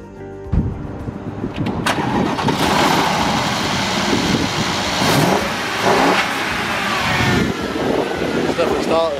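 A supercar engine cranks, catches and revs up loudly, holding a strong rough idle with repeated throttle blips over about nine seconds, with people talking underneath in a workshop.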